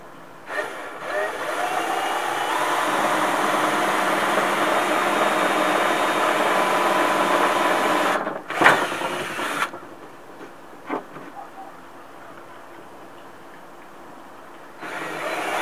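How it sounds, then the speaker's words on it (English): A power drill boring two pilot holes into a cap for a homemade boat anchor, one long steady whine running about eight seconds, a short second burst, then quiet. "I want to drill two holes"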